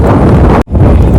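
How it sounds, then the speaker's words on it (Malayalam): Loud, steady wind buffeting the microphone with a brief dropout partway through, no voices heard. "നല്ല കാറ്റ്"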